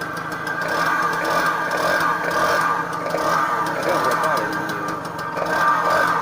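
A Peugeot 105 moped with a leaking carburettor runs steadily, a mid-pitched buzzing engine drone with slight rises and dips in revs, close by and fairly loud throughout.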